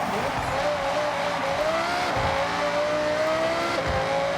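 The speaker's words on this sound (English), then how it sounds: "V10 sound makes up for it" Audi R8 GT RWD with a V10 engine in Forza Horizon 6, a loud, steady high-pitched engine wail holding a sustained tone that climbs slowly, with faint tire noise underneath and no speech.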